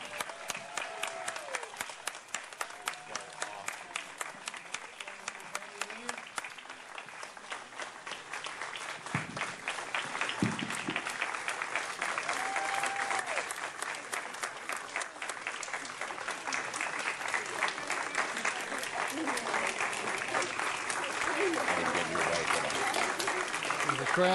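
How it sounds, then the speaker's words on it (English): An audience at Betty Lynn's 90th birthday celebration breaks into sustained applause, many hands clapping steadily and growing fuller and louder over the whole stretch, with faint voices underneath. "The crowd is clapping for her."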